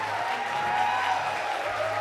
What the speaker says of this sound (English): Give him a hard applause.